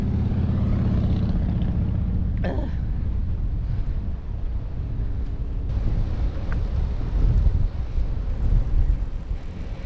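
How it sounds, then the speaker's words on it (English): Steady low rumbling buffeting of wind hitting the microphone while cycling in southern Sweden, continuous and fairly loud throughout, with a brief scrape partway through. "Ooh, really windy."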